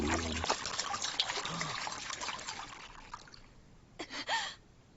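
Liquid pours out and trickles in the Yakuza 0 cabaret scene, a soft splashing stream that fades, followed by a short gasp-like burst near the end with faint game sound underneath.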